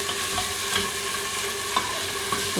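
Garlic-ginger paste fries in a pan with a steady soft sizzle, broken by occasional stirring scrapes.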